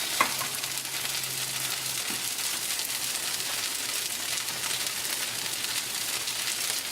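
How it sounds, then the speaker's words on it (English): Rawa dosa batter sizzles on a hot pan. A steady, dense frying hiss runs throughout, with no voices. "We need to let it cook on the one side, and as we start turning little bit golden brown, we'll turn it over on the other side"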